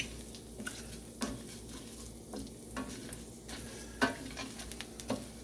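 Paella rice frying in hot oil in a cast iron pan, a quiet steady sizzle broken by soft scraping strokes and light knocks as it is stirred.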